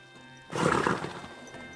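A short, loud horse neigh bursts out after a quiet start, with clip-clopping hooves in Kingdom Come Deliverance, the medieval role-playing game, then fades back into low ambience.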